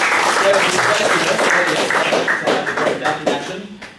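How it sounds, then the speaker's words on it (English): An audience claps in a round of applause, dense and fairly loud at first, then thinning and fading toward the end, with faint voices and shuffling mixed in. "Please give him a round of applause."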